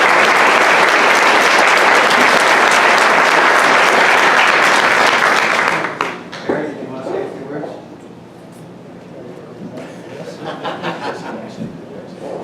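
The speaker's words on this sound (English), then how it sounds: "another round of applause" Loud, dense applause from a crowd for about six seconds, then it fades out to scattered chuckles and a few voices in a quiet room.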